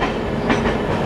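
A train pulls into Agra Cantt station at night, a loud continuous rumble of rolling wheels and carriage noise heard up close with a faint rhythmic clatter.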